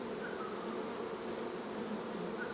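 A colony of honey bees in an open hive being inspected, with a brood pattern of larvae and pollen, gives off a steady, dense buzzing hum that stays close and even from start to end, with no voices.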